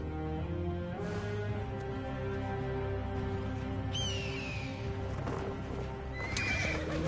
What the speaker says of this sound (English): There's my horsey.